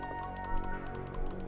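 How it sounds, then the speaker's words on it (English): Rapid clicking of a computer keyboard, close up, with bursts of keystrokes in quick succession over a faint background hum. "I love the clicking."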